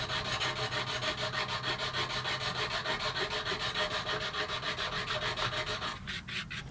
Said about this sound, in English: I'm just using a flat sanding block to sand the sides exactly flush with the